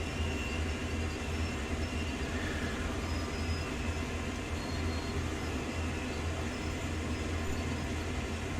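A train in Train Sim World with a dragging brake, heard as a steady low rumbling drone with a faint grinding hiss above it, continuous and even, with no talking.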